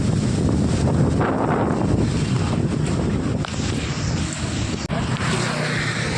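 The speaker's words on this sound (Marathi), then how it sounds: "हे बघा, इतका काहीतरी बेकार वारा सुटला आहे" Strong wind gusts past a roadside shop on a summer day, roaring steadily and buffeting the microphone, with a brief dip near the end.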